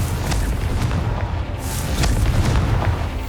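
A Confringo spell explosion in Hogwarts Legacy produces a dense, sustained low rumbling boom that fills the whole span, with scattered crackling pops riding on top.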